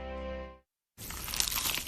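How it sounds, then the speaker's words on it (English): A crunchy bite into a slice of cheesy pizza: close, loud crackling crunch texture after a brief silence, preceded by a sustained tonal sound. "Is that the sound of an ooey gooey cheesy crunchy slice of P-I-Z-Z-A?"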